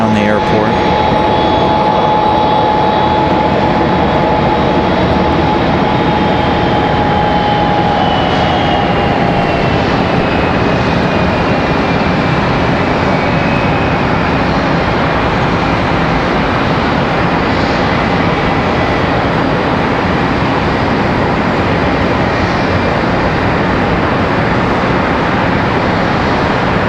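Aircraft engines roar steadily at Charlotte Douglas International Airport, a loud, continuous broadband rumble with a slowly falling whine as a plane moves, heard from nearby with no clear talking.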